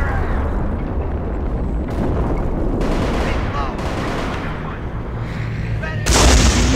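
Artillery fire in the strategy game Company of Heroes: a dense, continuous barrage of heavy booms and rumbling blasts, loud and close, with sharper bursts of gunfire breaking through and a heavier impact near the end.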